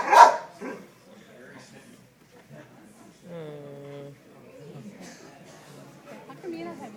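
A working dog barks once loudly near the start, followed by faint yips and whimpers under someone talking about the dog holding its position on one side.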